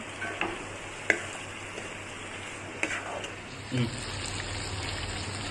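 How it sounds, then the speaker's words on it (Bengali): Fried chicken pieces sizzle with spices in a pan, giving a soft, steady crackle. A few sharper clicks from stirring come through near the start and around the middle. "ভেজে রাখা চিকেনগুলোকে মশলার সঙ্গে ভালো করে মিশিয়ে ঢাকা দিয়ে"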